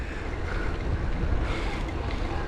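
Wind buffets steadily during a boat trip at sea, a continuous broadband rush with low rumbling gusts, no voices over it.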